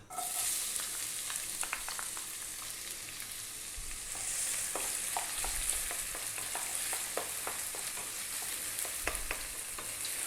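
Chopped onion dropped into hot oil over medium-high heat for chickpea chana masala, giving a steady loud sizzle with scattered crackles and stirring clicks throughout, no talking.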